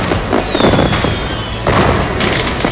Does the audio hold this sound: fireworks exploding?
yes